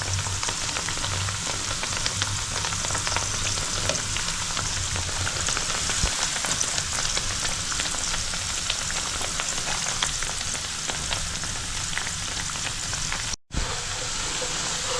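Chana dal vadas deep-fry in oil over a medium flame, giving a steady, dense sizzle and bubbling. It stays close and continuous for the whole stretch, without speech.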